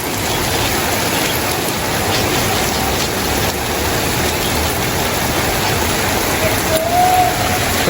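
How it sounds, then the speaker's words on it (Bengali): Rain falling in a village courtyard beside a flowering tree, a steady, dense hiss of drops that runs without a break from start to end, fairly loud and close, with no one talking over it. "কি বৃষ্টি, তাও বৃষ্টি সাউন্ড ভালো।"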